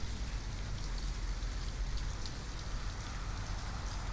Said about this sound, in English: I'm sorry you're out here in the rain.